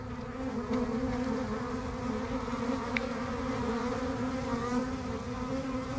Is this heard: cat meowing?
no